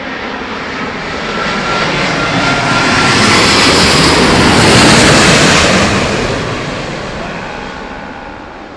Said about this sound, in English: now that landing there, did you see how the back wheel set came down